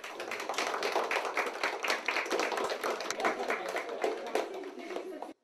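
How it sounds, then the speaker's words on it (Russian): Colleagues applaud at a certificate ceremony for teachers who completed training, a dense, steady patter of many hands clapping close by for about five seconds before stopping abruptly. "Слова поздравления, аплодисменты коллег по работе и прошедшим обучение преподавателям вручают сертификаты."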